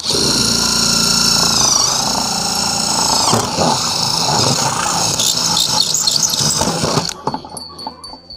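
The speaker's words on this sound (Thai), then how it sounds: "เจาะทีเดียวก็ได้ทีละสองแผ่นเลยนะครับ" A power drill bores through two stacked ceiling panels at once, a loud continuous whining grind with pitch shifts that runs for about seven seconds before stopping abruptly, leaving faint clicks.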